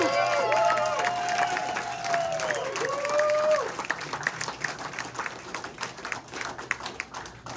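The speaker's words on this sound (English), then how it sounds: "Please give a massive round of applause to the incredible Mr." Concert audience applause and cheering for a bass guitarist at a blues-rock show in Milwaukee, with dense clapping throughout and whistles and whoops rising early before the crowd noise thins.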